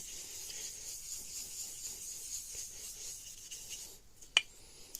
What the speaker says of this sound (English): we're going to take the Scotch-Brite and we're just going to go in circular motion